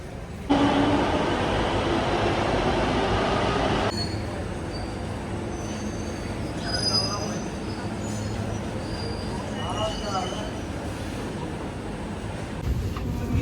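A metro train in India rumbles steadily, loud at first and then easing into a quieter rolling hum, with faint squeals and rattles along the way.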